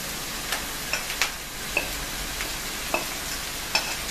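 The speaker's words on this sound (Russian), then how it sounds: "Лучок обжарился, и закладываем морковку" Onions and carrots fry in a pan with a steady, close hiss, broken by several sharp clicks of a utensil stirring against the pan. No voice is heard.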